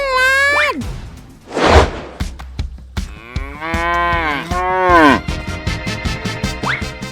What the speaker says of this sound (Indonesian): Sobat Otan ini adalah sapi perah